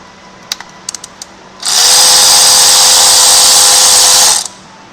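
A power tool, likely an impact wrench or drill, runs steadily for about three seconds while removing a bolt from the tensioner bracket on a 1FZ Land Cruiser engine. A few light metallic clicks come before it, and there is no talk.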